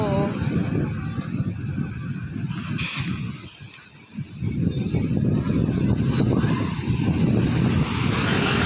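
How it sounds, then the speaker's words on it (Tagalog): Strong outdoor wind buffets the microphone continuously, a loud, roaring broadband rush that briefly eases before surging back up. "Grabe, super hangin guys."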